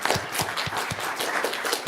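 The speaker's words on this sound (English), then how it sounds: "So maybe let's give them a round of applause" An audience at a public and private land management session breaks into a brief, dense round of clapping, with many quick overlapping hand claps.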